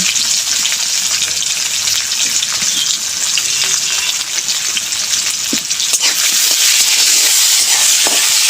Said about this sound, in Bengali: ভালো করে কাঁঠাল দানাগুলো আমি ভেজে নেব।